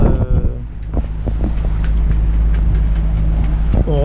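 Strong northwest wind on the Corsican coast near Roccapina buffets the microphone with a constant low roar, while faint tapping and a rising whine come through near the end.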